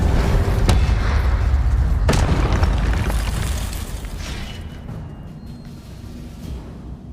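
A fire spell explosion in the Hogwarts Legacy video game: a loud, deep boom followed by a sharp second blast, each trailing into a rumbling roar that slowly fades.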